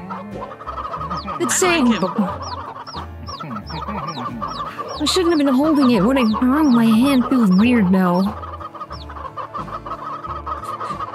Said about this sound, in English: Oh, we got too many full-grown chickens now.